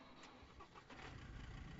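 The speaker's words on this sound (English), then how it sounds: "Start the car." A truck's engine cranks over and catches in the video game SCUM, rising into a rough, steady rumble that sits low and fairly faint under a constant background hiss.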